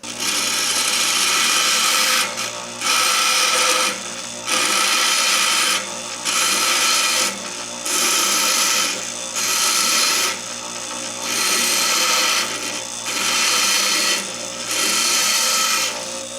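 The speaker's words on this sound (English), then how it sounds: "Let's go ahead and grind this sucker down." A handheld grinder cuts into a car engine part during oil-leak repairs, running in about eight loud, harsh bursts of a second or two each, separated by short pauses, with no talking.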